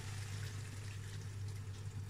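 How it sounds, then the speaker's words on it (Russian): A glass of water pours into a pan of stewing chicken liver, a faint, steady trickling wash over a low kitchen hum lasting about two seconds. "Теперь налью стаканчик воды"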